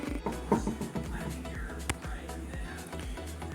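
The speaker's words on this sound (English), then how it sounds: "You can see this is a single stitch machine, so it's nothing fancy, nothing pretty." A basic single stitch sewing machine runs with a steady, rhythmic mechanical clatter of gears and needle strokes, close and moderately quiet, with faint voice in the background.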